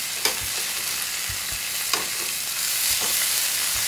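Mushrooms sizzle loudly in a frying pan with a steady, close hiss, broken by a few sharp clacks and scrapes as they are stirred and turned. No one speaks.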